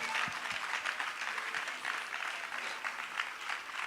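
Church congregation applauds with steady, dense clapping from many hands throughout, moderately distant and filling the room without pause.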